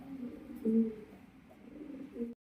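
Soft, low pigeon coos repeat a few times close by, gentle and rounded, with quiet rustling between them.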